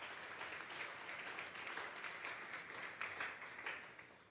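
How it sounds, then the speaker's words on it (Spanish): A church congregation at a Sunday afternoon service applauds steadily, with quiet but continuous clapping filling the whole stretch and no voices over it. "Vamos a darle otro aplauso pues al Señor esta tarde."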